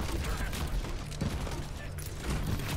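Rapid bursts of Overwatch gunfire crackle over a noisy background, fairly faint and continuous.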